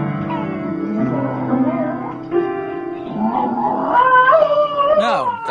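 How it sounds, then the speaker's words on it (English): A dog howls in long, wavering, rising and falling tones alongside piano notes, filling the clip at close range, with the howls growing higher and more strained toward the end. "that was a video of a dog playing the piano"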